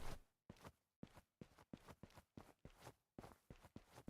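Quiet third-person footsteps in the game Suit for Hire, a regular rhythm of soft, close steps with short pauses, about a dozen in a row and no voices.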